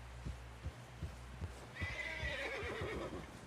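A horse whinnies loudly in Red Dead Redemption 2, a long shrill neigh rising after a run of soft, evenly spaced thuds like hoofbeats.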